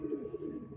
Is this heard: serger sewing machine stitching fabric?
no